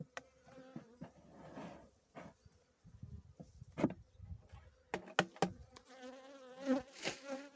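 Honeybees buzz close by on a hive frame in scattered bursts, with soft clicks and knocks breaking in now and then.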